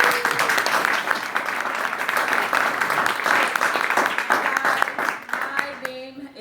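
Keynote audience claps and cheers in a dense, steady burst of applause that tapers near the end as voices and a few whoops come through.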